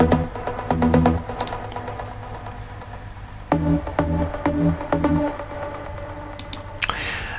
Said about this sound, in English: It's just a simple detuned trancey sound with some delay and reverb